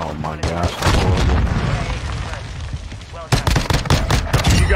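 Gunfire in the video game Warzone 2.0, with rapid bursts of shots and booming impacts running through the whole stretch and a sharp new volley near the end, all loud and close with a player's voice talking over it.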